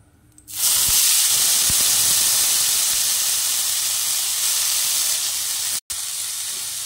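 Chow mein noodles hit hot oil in a wok, starting a sudden loud sizzle that holds steady as a strong hiss, with a few soft clunks underneath and one brief dropout near the end.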